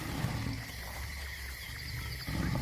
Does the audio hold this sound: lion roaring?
yes